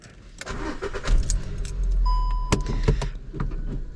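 A VW Virtus MSI with a manual gearbox starts up: keys jangle and clicks sound, then the engine cranks and settles into a close, steady idle, with no voices.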